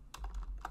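Quick bursts of typing on a computer keyboard while entering code, a handful of close, crisp key clicks in an uneven rhythm with no talking.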